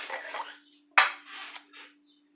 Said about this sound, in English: when I get the lid off of this